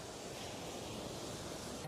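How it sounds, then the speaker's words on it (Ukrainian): Ocean waves wash in a steady, broad rush of surf with a faint windy hiss, continuous and fairly loud, with no voices. "Хвилі, хвилі."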